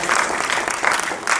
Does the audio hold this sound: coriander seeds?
no